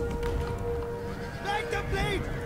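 Cavalry horses charge in the Total War Rome 2 video game, with a steady rumble of hooves and whinnies under continuous battle noise while someone talks over it.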